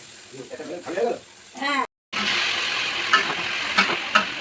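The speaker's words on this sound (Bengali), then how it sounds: "সেটাই কড়াইয়ে ঢেলে দিয়েছি। এখন আর কিছুই না, তোমরা সকলেই জানো ভালো করে মশলাটা কষাতে হবে।" Spice paste sizzles and fries in a kadai while being stirred, a steady hiss after a short gap, with someone speaking over the cooking at the start.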